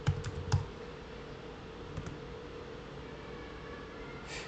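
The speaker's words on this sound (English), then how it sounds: "Let me type it in real quick." Soft typing on a computer keyboard, a few faint clicks at the start and again near two seconds, then mostly quiet room hiss.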